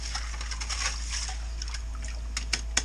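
Water in a drilled ice-fishing hole, sloshing and trickling softly at close range during warm, wet-snow conditions, with scattered small drips and splashes near the end.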